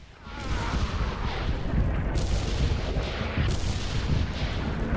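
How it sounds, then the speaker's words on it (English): Mortar explosions in the video game Red Orchestra 2 form a loud, sustained rumble of heavy booms and rolling blasts. Layered bursts keep arriving with no pause between them. "I don't know why he keeps using mortars instead of artillery."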